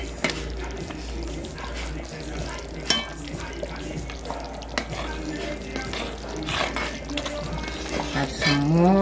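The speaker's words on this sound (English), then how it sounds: "You don't want no lumps, so you're just gonna stir it." Cornmeal is stirred in a pot over a stove fire, with steady scraping and swishing strokes, light bubbling, and occasional clinks of the spoon against the pot, close and moderately loud throughout.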